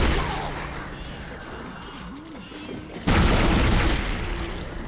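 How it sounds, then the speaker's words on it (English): An enemy in the video game Dead Space bursts when shot: a muffled stretch of game noise gives way to a sudden heavy boom that swells loudly and then rumbles down slowly. "So it kind of explodes when you hit him."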